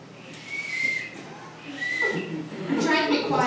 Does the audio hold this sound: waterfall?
no